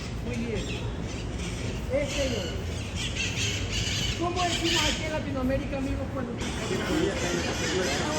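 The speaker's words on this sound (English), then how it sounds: "we've got these noisy parrots up here" Parrots squawk and screech repeatedly over steady outdoor noise, with a murmur of people talking in the background.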